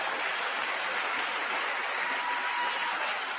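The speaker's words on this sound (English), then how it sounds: "How are these people clapping?" Steady audience applause at the State of the Union fills the whole stretch, a dense, even wash of clapping from a large crowd with no pauses.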